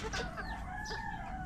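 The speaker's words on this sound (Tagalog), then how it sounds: "At nandito yung mga manok po na decaled white mga Kanoypi." Young white chickens, about four months old, cluck and murmur in a pen close by, a soft continuous chorus of clucks with faint rustling underneath.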